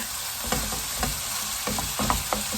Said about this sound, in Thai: ตอนนี้พระราจะผัดให้เนื้อหมูหอมอร่อยก่อนนะคะก่อนใส่ผักนะคะ